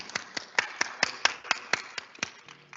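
A small group claps at a diploma ceremony for industrial design graduates, a sparse, steady run of distinct handclaps, fairly quiet and close, with no talking over them.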